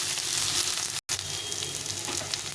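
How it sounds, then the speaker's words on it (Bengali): Eggplant frying with potatoes in a pan, a close, continuous hissing sizzle broken by one brief gap. "বেগুনটাকে একটু ভেজে নিব আলুর সঙ্গে"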